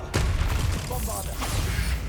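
A Bombarda spell explodes in the Hogwarts Legacy video game, a dense burst of booming, crackling blasts that keeps a loud low rumble going from start to end with a few sharper pops layered on top.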